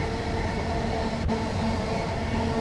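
Empty passenger train in Train Sim World 3 on the Dartford to Gillingham route, running with a steady, continuous rail rumble and a faint even hum, no voices.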